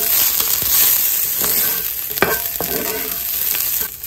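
Broccoli sprinkled with seasoned salt sautés in a hot pan, a loud, continuous sizzle and crackle broken by occasional stirring scrapes, with no talking.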